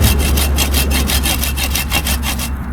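An electric reciprocating saw cuts through a bamboo stem, its rapid rhythmic rasping strokes loud and close, running steadily until the blade breaks free near the end.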